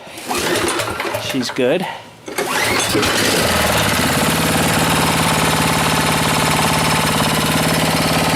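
A snowblower engine, locked on with the transmission in neutral, catches after brief talk and a short gap, then runs loud and steady with a fast, even buzzing drone close by.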